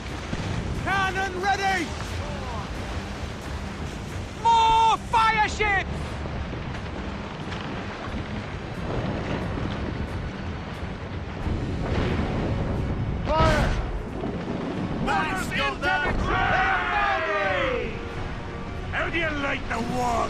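Naval cannon fire and booming explosions in the Assassin's Creed Rogue video game, with repeated blasts during a ship battle against fire ships, mixed under shouted crew voices and game dialogue.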